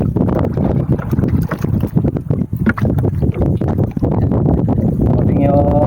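Strong wind buffets the microphone during net fishing on open water, a loud continuous roar with gusty surges throughout, likely with a boat nearby.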